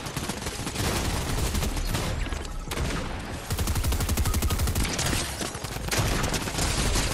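Dense bursts of gunfire in Fortnite Chapter 4 Season 4, loud and continuous rapid shots with booming impacts, filling the whole stretch.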